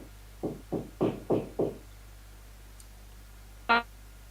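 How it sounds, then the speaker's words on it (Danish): Five quick, evenly spaced knocks land close by, followed after a pause of about two seconds by one more sharp knock, with no talking over them. "Kan I høre, der er nogen, der banker?"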